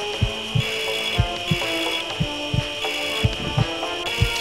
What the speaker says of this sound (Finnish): Sahataan.